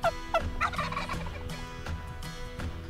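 A wild turkey gobbles in a spring woodland during turkey season, with sharp gobble bursts near the start followed by rolling calls and other birds, moderately loud and close, with no talking.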